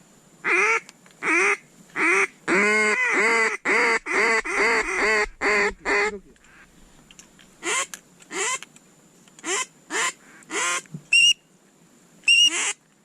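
A duck quacks over and over close by, first in a fast run of calls and then in spaced bursts after a brief pause.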